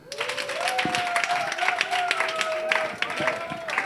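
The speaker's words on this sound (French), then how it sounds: "Alors on applaudit pour nous-mêmes." A group of teachers at a protest gathering clap together in a short burst of applause, dense and close, with voices mixed in under the clapping.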